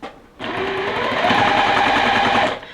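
A sewing machine runs steadily for about two seconds while stitching quilt block pieces, a close, continuous mechanical whir that starts abruptly and stops near the end.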